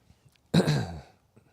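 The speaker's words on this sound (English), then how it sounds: "I know it probably gets annoying to hear me like clear my throat all the time." A single throat clear from a woman living with POTS and dysautonomia, one short rough burst at close range lasting about half a second, loud against an otherwise quiet room.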